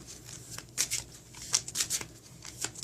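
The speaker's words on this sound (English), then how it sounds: "I'm just going to give the deck another quick shuffle just like this" A tarot deck is shuffled by hand, producing quick, soft riffling bursts and card flicks at irregular intervals, close and fairly quiet.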